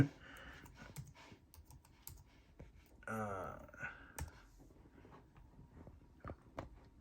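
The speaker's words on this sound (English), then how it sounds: "we'll just type in something super easy" Keys clack in quick, irregular bursts on a vintage iMac keyboard, close and fairly quiet, with a brief louder rattle partway through.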